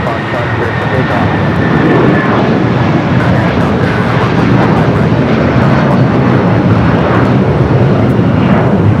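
A passenger airliner roars down runway 25 right at LAX on its takeoff run, a loud, steady broadband engine rumble that fills the whole stretch with no pause and no talk.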